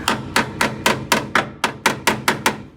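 A small trim hammer taps metal on a 1964 Mercury Park Lane eleven times in a steady rhythm, each strike sharp, ringing and close.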